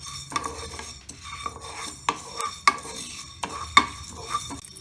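Fenugreek seeds dry roasting in a pan for turmeric pickle, stirred with a metal utensil: repeated sharp scrapes and clinks against the pan in an uneven rhythm over a faint sizzle, close and fairly quiet.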